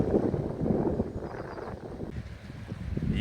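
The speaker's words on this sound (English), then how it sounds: "the wind is slowly picking up" Wind blows steadily over a boat lying at anchor off an island, a broad rushing gust that eases slightly midway and swells again toward the end, with no voices.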